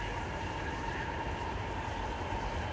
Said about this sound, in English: I have to wait for the train again.